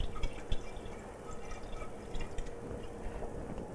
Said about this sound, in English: What we're going to do is pour the water off, and then let some new water run in through the screen.